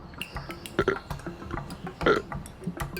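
A man burps into his hand to imitate a deer call, producing a few short, guttural croaks spaced irregularly, close and fairly loud with quiet gaps between.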